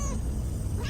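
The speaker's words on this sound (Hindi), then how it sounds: "ये बिल्ली इतनी जोर से रो रही है," A cat crying and meowing loudly at night, a continuous drawn-out wail close by, alone without talk.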